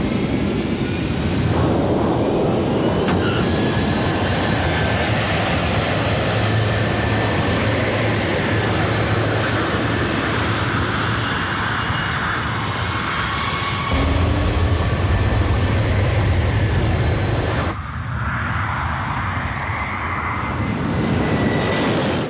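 Airliner Flight 77 taking off: a loud, continuous broadband engine roar with steady tonal whine, sustained for about twenty seconds before dropping slightly near the end, with no voices.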